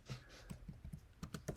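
Fingers tap out a short burst of quick, light clicks on a computer keyboard during a coding session, quiet and close with no talking.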